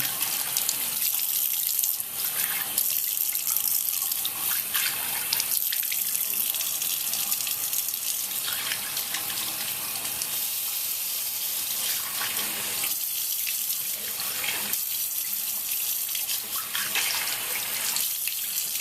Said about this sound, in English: now you, at this point, you'll just rinse off the cream